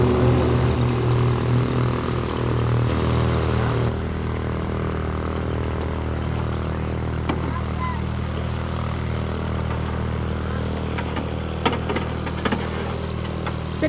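Propeller plane engine drones steadily up close, a continuous buzzing hum that shifts pitch partway through, with a few faint clicks.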